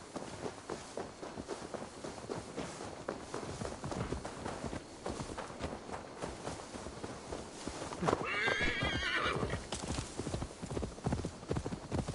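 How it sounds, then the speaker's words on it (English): Horse hooves clop steadily at a trot in a video game, with a loud whinny rising briefly near the end. No voices. "Now to deliver Magni his horse."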